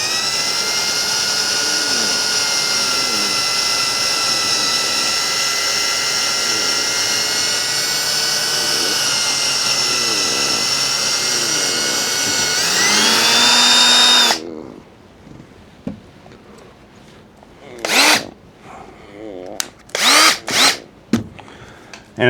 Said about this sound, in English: Just shot vac as you drill. But I'll drill all these out.